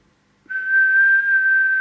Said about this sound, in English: Then we'll check it with the whistle test.